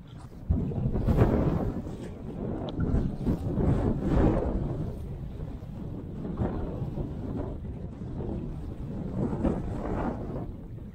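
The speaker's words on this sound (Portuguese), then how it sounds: "Tá um vento muito forte." Strong wind buffets the microphone while someone kayaks near a marina. A steady, rough rumble surges and eases for the whole stretch, with no voices.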